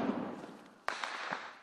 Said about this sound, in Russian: Боевики продолжают вести огонь.